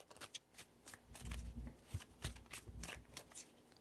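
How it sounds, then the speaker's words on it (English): A deck of tarot cards being shuffled up close, with a run of crisp riffling and flicking bursts that rise and fall in quick irregular rhythm and no talk. "3 shuffles"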